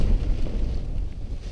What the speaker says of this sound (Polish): bez ustanku wieje wiatr, ale chyba już się przyzwyczaiłem do tego wiatru